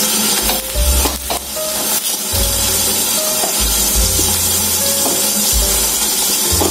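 Green chilies roasting in a pan for Khandeshi-style gilka (sponge gourd) bharit, a steady close sizzle and crackle with soft scraping and shuffling, no voices.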